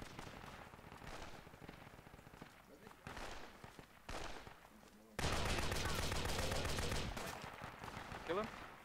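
Bursts of rapid automatic gunfire crackle through a Project Reality battle at Brecourt, starting as scattered distant rattles, then a long, loud, sustained stream of machine gun fire, with voices talking over parts of it.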